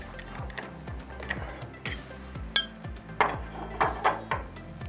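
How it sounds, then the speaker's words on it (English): Metal spanners ratcheting and clinking while tightening a nut on a hose connector, a series of short rhythmic scraping clicks with sharper metallic taps, close and alone. "Now I take my spanners and close the connection."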